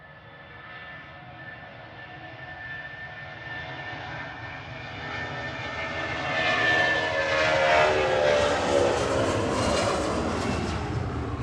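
A 30-year-old Boeing 757-200 jet takes off from Manchester Airport, its engine roar building steadily and peaking loud and close near the end before starting to ease off.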